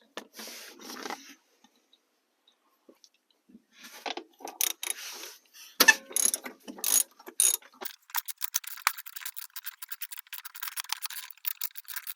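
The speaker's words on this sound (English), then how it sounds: "And then again with the 14mm socket, I'm going to remove both these front bolts." A ratchet wrench with a 14mm socket loosens the front seat bolts in a Honda Element, sounding as quick bursts of close metallic clicking that build into rapid continuous ratcheting, with short pauses between.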